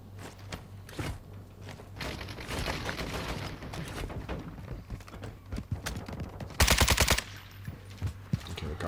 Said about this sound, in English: He's busy now shooting that guy, taking him out.